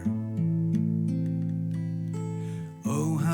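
A recording of a song plays fairly quietly, with sustained tones holding for a few seconds before a fuller passage comes in near the end.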